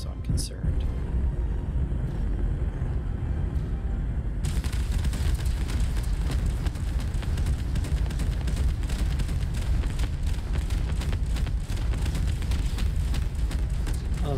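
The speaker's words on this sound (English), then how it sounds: "Oh, that's a lot of explosions." Dense, continuous barrage of explosions and booming blasts in a sci-fi space combat video game, loud throughout with rapid crackling bursts, alongside a faint quiet voice.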